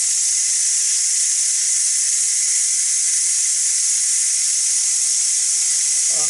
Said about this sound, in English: go ahead and make a quick release on it